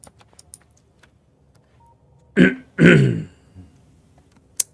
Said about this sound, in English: start having to clear my throat